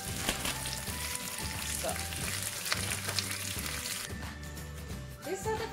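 Vegetables and minced meat frying in a pan, a steady broadband sizzle with scattered crackles and stirring scrapes, briefly quieter near the end, and a short word spoken once.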